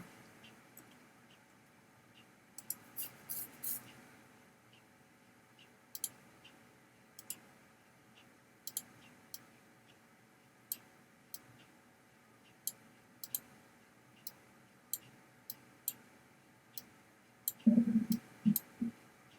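Computer mouse clicking during a digital deck-building card game, a series of sharp, quiet single and double clicks spaced irregularly over a near-silent background, with a brief low thump near the end.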